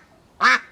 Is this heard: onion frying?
no